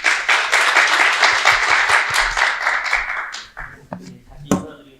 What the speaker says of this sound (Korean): 이제 첫 번째 발표 큰 박수로 맞아주십시오.